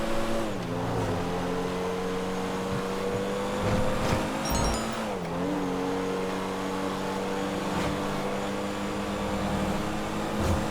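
A Pfister Comet Retro Custom with a Benny's conversion drives in GTA Online, its engine note climbing and dropping through gear changes as it speeds up and passes other cars, loud and close with no talk.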